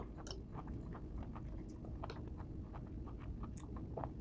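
Crunchy cooked bamboo shoots from an adobo-style dish being chewed close up, soft repeated crunches and bites in a steady rhythm, with no talking.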